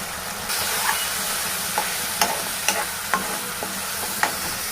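A guar bean curry seasoned with chili powder and coriander powder is stirred in a frying pan. A steady close sizzle runs under about seven distinct scraping spoon strokes at an uneven rhythm, and no one speaks.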